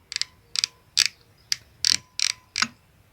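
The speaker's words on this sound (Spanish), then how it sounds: "Al aumentar nuestra puntada va a hacernos este ruido." Reverse lever vibrating on a straight-stitch sewing machine when the stitch length is increased. Seven sharp, close metallic rattles come at roughly half-second intervals, with quiet gaps between them.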